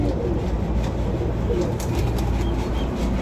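Pigeons cooing in a loft offered for sale in Jhelum, Pakistan, a continuous close chorus of low throaty coos overlapping from several birds, with a few faint wing rustles mixed in.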